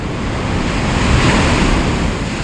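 Ocean waves break and wash onshore in a steady, loud roar of surf with wind buffeting the microphone and no voices.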